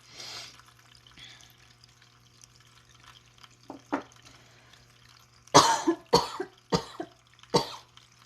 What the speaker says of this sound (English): I didn't mean to cough and wake you all up